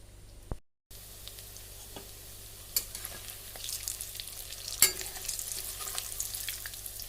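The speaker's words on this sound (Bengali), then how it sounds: "এভাবে আমি সমস্ত চপগুলোকে ভেজে নেব" Potato chops frying in oil give a steady crackling sizzle, with a few sharp utensil clicks and a brief gap near the start, and the bubbling grows busier toward the end with no voices.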